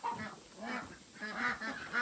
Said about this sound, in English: The ducks are going to be pretty loud the whole time.